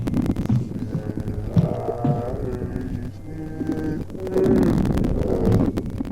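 Eerie backwards version of Happy Birthday from the Slender horror game, heard as a low, droning, warped melody with throbbing tones that swell louder toward the end, no talking.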